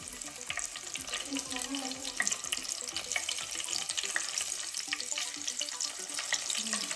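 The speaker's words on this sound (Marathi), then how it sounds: "मिरची तळून झालेली आहे" Salt-stuffed green chilies fry in hot oil, giving a steady, dense crackling sizzle that continues evenly throughout, close and moderately loud.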